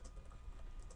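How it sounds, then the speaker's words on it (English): Quick, quiet keystrokes on a computer keyboard, a short burst of soft clicks close by over faint background hiss. "I'm going to type this in"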